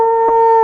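A man imitating a wolf howl in a single sustained, steady, loud vocal tone held close to the microphone.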